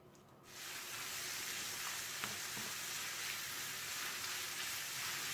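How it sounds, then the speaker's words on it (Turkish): Medium-fat ground beef, 250 grams, fries in oil in a pan for musakka, giving a steady, dense sizzle that rises sharply at the start and continues evenly with a few faint stirring clicks. "Üzerine de orta yağlı 250 gram kıymamızı alıp kavurmaya başlayalım."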